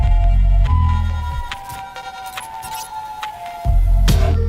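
An old electronic tune's intro blends atmosphere samples and vinyl crackle, a deep bass swell fading into hazy textured noise with scattered clinks and a sustained tone before the low end returns, dense and continuous.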